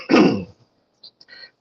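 One person gives a single loud, rough throat clear or cough at close range, followed by a few faint mouth noises and quiet breaths.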